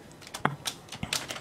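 Typing on a computer keyboard: a few distinct, close key clicks at an uneven pace over a quiet background.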